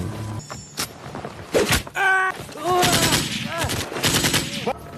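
Sound-effect gunfire from panicked troops shooting blindly: loud, close bursts of shots and clattering impacts come in irregular clusters across the span, with harsh swooping tones mixed among the shots and no speech.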